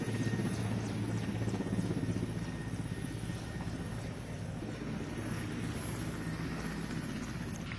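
Helicopter carrying NSG commandos, its steady rotor thrum and turbine roar continuous and even throughout, at moderate distance with wind buffeting.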